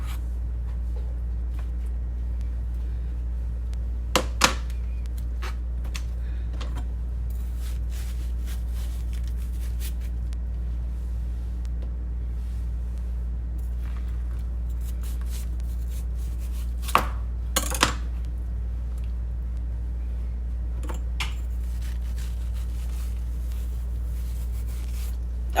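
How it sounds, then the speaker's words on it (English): A knife trims the rind off a yellow-fleshed watermelon, a few crisp cutting chops at irregular moments over a steady low hum, close and fairly clear, no talk. "trim off the end of that rind"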